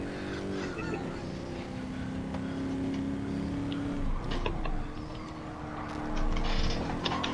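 Car engine revving and droning in a PS4 racing game, a steady mid-level motor hum that swells in pitch and loudness toward the end, with some mechanical clatter over it.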